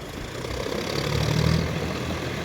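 A John Deere 5050D 4WD tractor engine labours steadily in deep mud, a continuous low rumble that swells slightly midway, alone with no voices.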